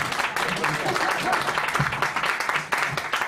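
An audience applauds steadily and fairly loudly at an interview event, with speech partly audible under the clapping throughout.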